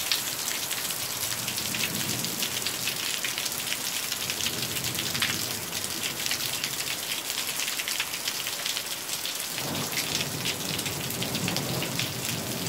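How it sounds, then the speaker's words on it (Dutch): A heavy summer thunderstorm on 7 July 2017 pours down as a dense, constant roar of rain hammering surfaces, with a low thunder rumble rolling in the background and no voices. "Dus ik heb liever zulke onweersbuien."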